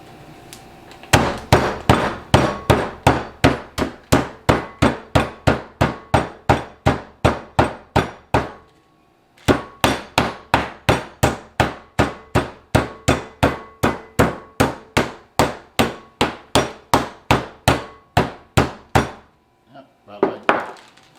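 Pork tenderloin sealed in a bag is pounded thinner on a hard surface, a long run of loud regular thuds, a brief pause, then another long run and a couple of final blows.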